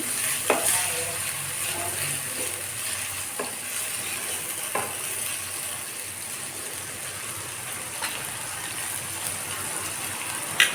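Beef being stirred with salt in a pot while cooking beef tehari, a steady sizzle with scattered scraping and clinking strokes, moderately close and without talk.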